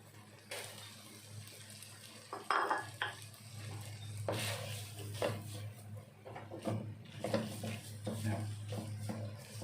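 Spaghetti tossed and stir-fried dry in a pan with green curry shrimp and eggplant, with scraping, clinking utensil stirs and a low sizzle under someone speaking.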